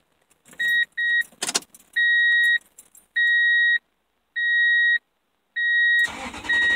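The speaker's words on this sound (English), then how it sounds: "2001 Toyota Tundra V8 4x4 damaged, airbox unhooked. Startup, short run before engine explodes." Keys jangle near a 2001 Toyota Tundra V8 4x4 with damaged, unhooked airbox, followed by a brief rattle and a series of regular two-tone warning chimes, then the engine fires up loudly at the end.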